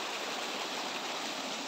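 Loud, steady rush of fast-flowing river water, a dense continuous roar with no pauses.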